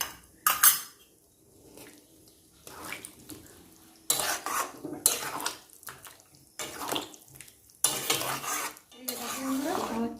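Chili chicken is stirred in a pan with a utensil, giving bursts of clattering metal scrapes and clinks against the pan between quieter pauses, close and fairly loud, with no talking.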